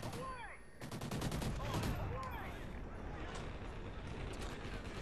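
Rapid bursts of gunfire in Ghost Recon, a continuous rattle of shots that stays fairly faint in the mix as voices speak over it.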